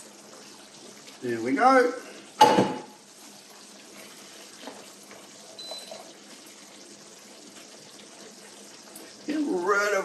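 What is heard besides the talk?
water being strained off cooked food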